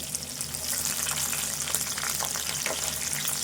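A medium-sized chopped onion fries in hot oil for goat liver curry, giving a steady, close, even sizzle with no pauses and no voices.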